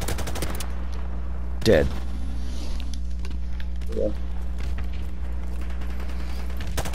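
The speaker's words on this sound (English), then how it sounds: "I'll blind fire the fuck out of y'all" Gunfire in Modern Warfare Remastered during a Team Deathmatch on the Wet Work map: a dense burst of rapid shots opens the clip, then scattered single reports follow over steady game noise, with a player's voice heard briefly.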